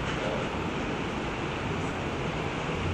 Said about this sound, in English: There's a wave coming.